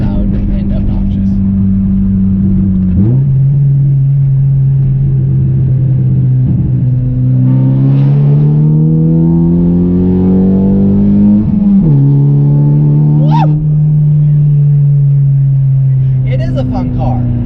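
Loud car engine, the owner's noisy cruiser, droning low and steady with rising and falling revs, pitch shifts at about 3 and 12 seconds, and a few sharp pops; someone talks throughout.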